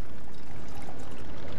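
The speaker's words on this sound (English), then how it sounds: "Then I'm going to grab my deep eddy lemon, pour it right in." Deep Eddy lemon vodka poured into a glass over ice, a steady close liquid stream with splashing for the whole stretch and no talking.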